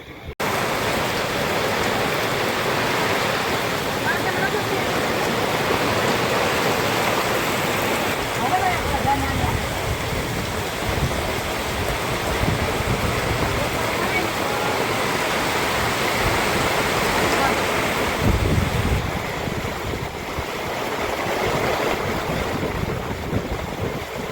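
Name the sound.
heavy rain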